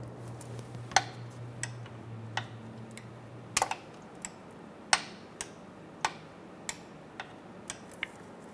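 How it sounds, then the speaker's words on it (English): Sharp ratcheting clicks from a ratchet and 10mm socket loosening a starter nut on a 2012-2020 Chevrolet Sonic, an irregular series of close, crisp ticks with short pauses, over a faint low hum. "We're going to use a 10mm socket to remove it."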